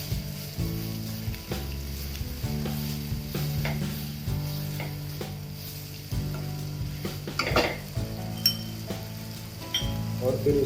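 Carrot halwa simmering in milk with ghee in a pan, a steady close bubbling sizzle with a spoon stirring and occasionally clinking against the metal, no voices.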